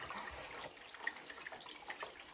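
Water drains steadily from an immersion tank after the supply is shut off, a faint continuous trickle with small scattered drips and gurgles, quiet and unbroken.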